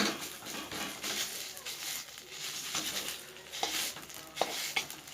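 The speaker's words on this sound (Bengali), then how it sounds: "এবার এটাকে ভালো করে নাড়ব" Black taro stirred in a wok with a cumin and mustard-oil tempering, giving a steady scraping and pattering rustle with faint sizzle, close and continuous, with occasional utensil knocks.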